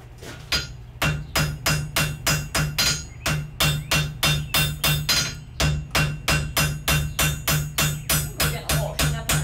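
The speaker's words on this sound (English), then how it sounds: "Bring this up to heat, and we'll planish those things out. We can go over the anvil, Jess." Wrought iron is hammered over an anvil while being planished at a forge, a long run of rapid, evenly spaced, ringing hammer blows, loud and close, about three strikes per second.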